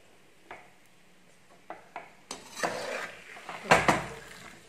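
A fried snack mixture for homemade bakery-style mixture being scooped out of a pan, a series of close metallic scrapes and clinks of utensil against the pan, growing busier and louder toward the end, with faint frying underneath.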